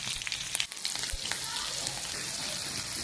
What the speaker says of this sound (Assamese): এতিয়া এই মাছ ভজা তেলতে মই সৰিয়হ আৰু কেঁচা জলকীয়া ফোৰণ দিম।